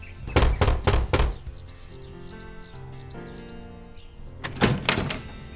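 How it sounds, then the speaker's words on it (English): Knocking on a house door, three firm thunks close together, then a pause with a soft tonal background before another pair of knocks, close and fairly loud. "He stopped at Tante Odette's house and knocked."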